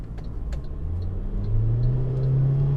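MG GS with a turbocharged 220-horsepower engine accelerating, a low engine rumble building steadily in pitch and loudness from inside the car.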